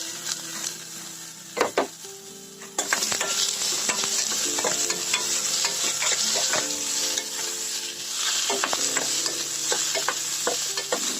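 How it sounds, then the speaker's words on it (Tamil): Tomatoes sizzle and crackle in a hot pan, a soft start jumping to louder frying with repeated spoon scrapes and stirs. "தக்காளி நல்லா வதங்கட்டும்."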